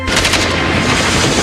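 Machine gun fire in an action film: a dense, continuous volley of rapid shots, loud and close, filling the whole short stretch with no voices over it.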